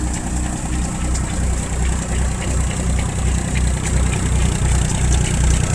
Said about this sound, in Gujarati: ટ્રેક્ટર મહિન્દ્રા છે 275